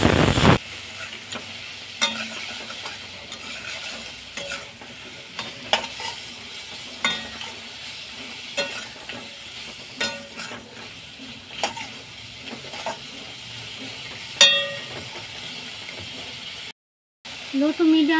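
Prawns fry over low to medium flame with salt, chilli and turmeric powder, a soft steady sizzle punctuated by scattered stirring clicks and scrapes, with a brief gap near the end.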